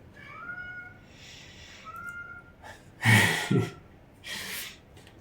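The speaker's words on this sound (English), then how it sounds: "I don't know if you could hear my cat Ellie crying outside the door" A cat cries loudly a few times outside a door nearby, with breathy, strained cries between quieter stretches.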